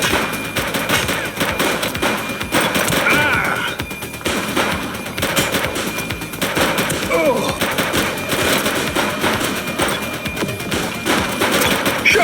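Sustained police shootout gunfire in the video game The Precinct, with rapid automatic bursts and single shots rattling almost continuously, loud and close, over a dense action mix.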